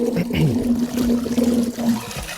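A BYWTER 1/2 HP sump pump pushes water, giving a steady low watery rumble with gurgling and splashing that stays loud for the whole stretch.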